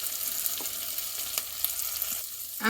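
Onion frying on medium heat in an uncovered pan for a paneer makhani curry, a soft steady sizzle with a few faint clicks and a slight swell near the end, no voices.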